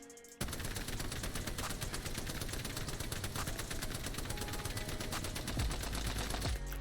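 Sustained automatic weapon fire in the shooter game Apex Legends, with a rapid, steady rattle of shots running unbroken for several seconds before cutting off, loud and close.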